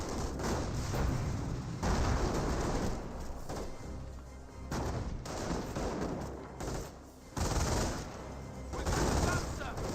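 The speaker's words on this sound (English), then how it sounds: "Another decoy barrage now being brought on in." An artillery barrage and gunfire in Company of Heroes, a World War II strategy game: continuous dense rumbling shellfire and rifle and machine-gun shots, loud and sustained throughout.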